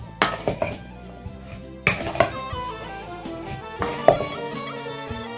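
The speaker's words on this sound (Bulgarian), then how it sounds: "Разбъркваме." A spoon clinks and scrapes against a dish in three short bursts while quince pieces are stirred with brown sugar, close up, with soft music underneath.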